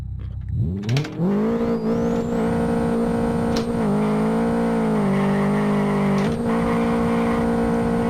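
A tuned Renault Megane drifts close by, its engine climbing to a sustained high rev while a loud, steady tire squeal runs almost unbroken across the clip, with brief dips and rises in pitch.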